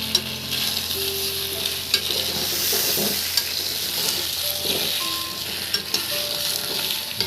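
Potato pieces frying in a pan for an egg and potato curry, a steady close sizzle with occasional stirring scrapes and clinks, no talk.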